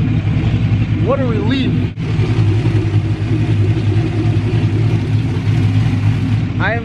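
A car's engine runs steadily just after being started following a battery relocation, a constant low rumble beneath excited voices talking over it.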